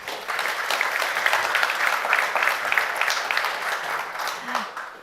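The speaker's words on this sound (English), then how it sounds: "Please give them a round of applause." An audience at a conference on nature-based solutions and the circular economy claps steadily for several seconds. The applause is moderately loud and even, with a faint voice near the end.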